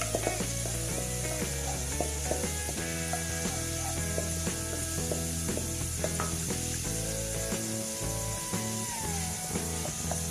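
Whole spices (a cinnamon stick, black cardamom and two or three cloves) fry in hot oil for pulao, with a steady, close sizzle running throughout under continuous tonal mechanical hum and clicking, and no talk.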